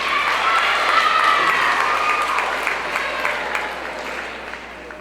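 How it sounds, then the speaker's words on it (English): An audience claps at a talk, a dense, fairly loud round of applause that swells early and then tapers off gradually. "Give him a round of applause."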